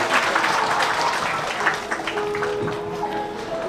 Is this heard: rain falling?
no